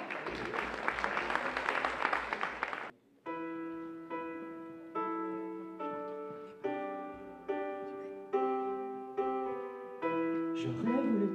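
Applause from the audience at a regional French chanson contest fills the first three seconds with dense, close clapping. It stops abruptly as a piano begins playing sustained chords.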